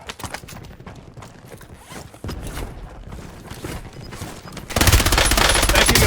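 Gunfire in Warzone on the Haven's Hollow map, quick rattling shots and mechanical clicks building into a loud, dense burst of fire near the end.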